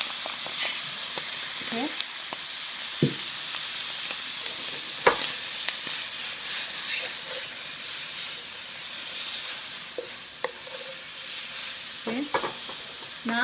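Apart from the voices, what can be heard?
steak stir frying with soy sauce in a pan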